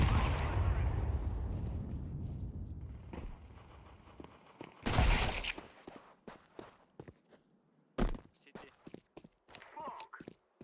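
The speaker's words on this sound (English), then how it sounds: "I'm throwing a flashbang." A flashbang grenade detonates in a tactical shooter video game, a sharp loud broadband burst midway through, with scattered gunfire-like cracks, footsteps and a second sharp hit later against a fading ambient rumble.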